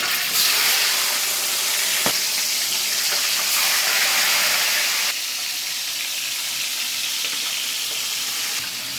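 Fish fried in a pan while cooking tinola with moringa leaves, a dense continuous sizzle and hiss close up, steady for the whole stretch with a few faint clinks and a slight drop in intensity midway.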